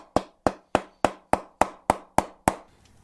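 A cricket bat wrapped in a protective scuff sheet is struck hard along its edges and toe, eight evenly spaced loud, sharp knocks close by, each ringing briefly before the next.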